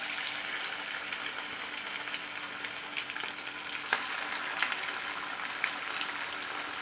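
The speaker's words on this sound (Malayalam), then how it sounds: "നമ്മൾക്കിത് ചീനച്ചട്ടിയിൽ എണ്ണ ഒഴിച്ചിട്ട് നന്നായിട്ട് കാഞ്ഞ ശേഷം നമ്മൾക്കിത് വറുത്തെടുക്കാം" Rice vadas fry in hot oil in a wok, giving a steady close bubbling sizzle with occasional sharper crackles and pops.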